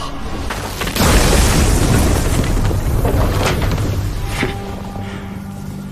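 A deep booming explosion bursts in an animated Chinese fantasy series, rising suddenly and rumbling loudly for several seconds before fading into a lower drone.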